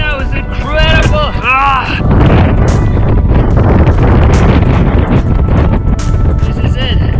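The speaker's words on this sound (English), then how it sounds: "The wind now is incredible." Strong wind on the summit of Mt. Apo in the Philippines buffets the microphone with loud, continuous roaring gusts, while people's voices break through briefly near the start and end.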